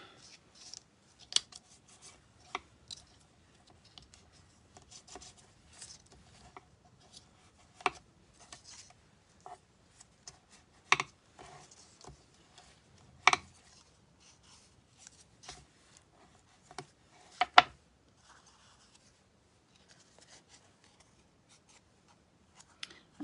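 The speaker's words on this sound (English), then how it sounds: "we're going to burnish all our folds nicely with our bone folder" A bone folder burnishes the folds of a paper pop-up card, giving faint, scattered rubbing and scraping strokes with brief sharp clicks between quiet gaps, close and soft.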